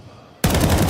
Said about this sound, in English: Spam goes through. Warning shots, but Flame still moves forward.